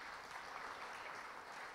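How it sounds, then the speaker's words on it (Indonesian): Brief, steady applause from a church congregation during a sermon, a soft even patter of many hands clapping with no voices over it. "Tepuk tangan buat Tuhan Yesus."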